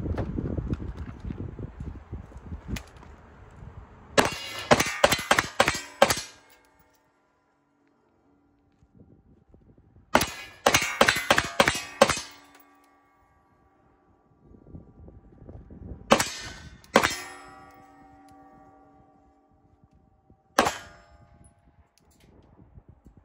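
Rapid bursts of pistol fire from a Glock 19-size handgun, four or five quick shots in each of three strings with a lone shot near the end, loud and sharp with ringing tails and no talk.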